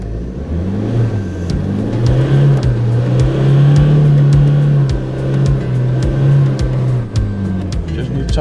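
An overland vehicle's engine revving as it struggles for grip on slippery ground, a loud steady drone rising and holding with rhythmic ticking, close and continuous.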